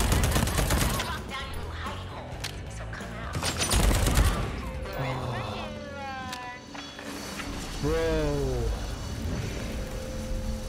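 Rapid small-calibre gunfire in Deathloop rattles in quick bursts, mixed with game effects, whooshing tones and voices over a busy background.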